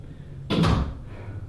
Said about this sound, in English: I'll close the door behind me.